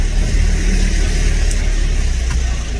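A car engine runs steadily close by, a continuous low rumble with a faint rise as the shrine's vehicle heads to Syed Muhammad's tomb, no voices over it.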